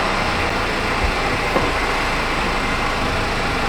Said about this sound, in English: The engine's running super lean. It's gonna run itself right out of fuel. You can hear it loping back there.